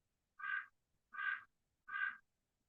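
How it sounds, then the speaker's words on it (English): An electronic bird clock chimes with three evenly spaced quack-like electronic calls, each about a third of a second long, clear and close against near silence. "there goes the bird clock"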